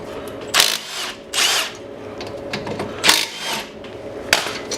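Power tool spinning a 14 mm brake caliper bolt off the front of a 2013 Nissan Versa, heard as several short, loud whirring bursts separated by pauses, with a faint background hum and no talking.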